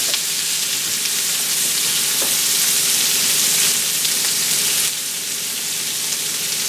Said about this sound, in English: I sliced the onions in thin slices. And I'm going to cook them